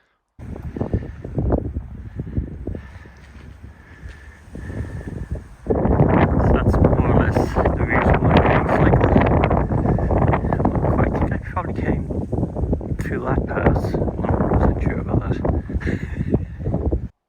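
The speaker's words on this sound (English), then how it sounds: "The wind was so strong to be pretty alarming, in particular when I had been crossing over the sections of bridge" Strong wind roars across the microphone while e-biking over a bridge on the NC500 in Scotland, a steady heavy rush that builds sharply after a few seconds and stays loud, with a voice partly heard under it.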